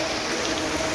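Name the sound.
heavy rain falling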